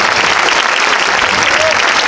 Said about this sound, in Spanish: un fuerte aplauso para esta orquesta que nos acompaña en directo, estos músicos